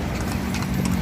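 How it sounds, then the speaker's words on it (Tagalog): Hooves of a horse pulling a kalesa carriage near Rizal Park in Manila clip-clop steadily on pavement, close and fairly loud amid street noise. "Ang kabayo, oh. Kalesa."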